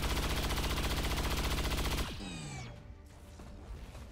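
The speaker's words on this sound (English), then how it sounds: "Okay, let's shoot the turret." Rapid automatic gunfire in the video game Singularity, aimed at a turret, rattles steadily for two seconds, then breaks off into metallic clanks and a falling electronic whine.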